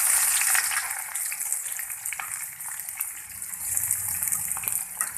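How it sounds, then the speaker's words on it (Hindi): Onions drop into hot spiced oil in a pan and fry with a loud, dense, continuous sizzle that stays up close and steady throughout. "अब हमारे मसाले अच्छी तरह से भुन चुके हैं, हम अब इसमें प्याज डालेंगे।"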